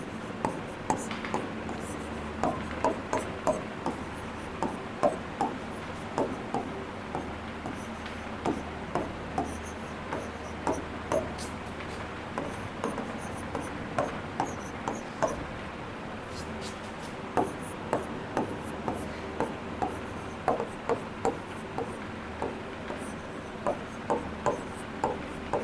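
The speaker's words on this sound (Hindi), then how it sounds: "तो सबसे पहले हम स्वर लिखते हैं।" Hindi vowels are written by hand on a surface, giving a run of soft scratchy pen or chalk strokes and light taps in irregular bursts, close and fairly quiet, over a low background hum.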